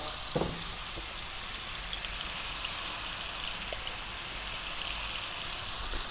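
Pumpkin rice frying in a pan and being stirred, a continuous soft sizzle with a couple of faint scrapes early on, steady and moderately quiet throughout.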